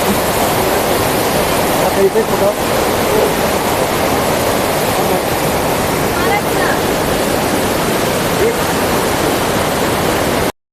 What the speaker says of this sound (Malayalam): ഇതാണ് ഇരിപ്പ് വെള്ളച്ചാട്ടം